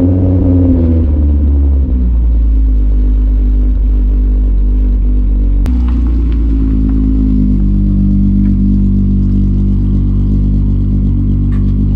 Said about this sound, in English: we haven't had a good old Miley cold start in quite a long time